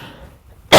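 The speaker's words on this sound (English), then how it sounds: "I have a little bit of a cough" A single sharp cough bursts out loudly at the very end, after a stretch of near silence, from a woman who has a slight cough.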